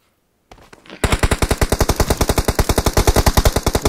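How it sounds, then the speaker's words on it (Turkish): Rapid automatic gunfire in the battle royale game PUBG, starting after a brief quiet moment and then hammering out a long, steady, loud burst of closely spaced shots. "Arkadan ateş atanlar var."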